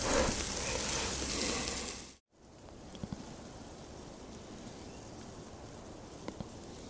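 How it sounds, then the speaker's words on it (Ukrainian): Food sizzles on an outdoor grill during a fishing trip, cheese swelling and melting over the top; a steady, fairly loud hiss runs for about two seconds, cuts off abruptly, then returns as a quieter bed with occasional faint ticks and pops. "Смажиться, тече, вон сир розбух, аж витікає через верх."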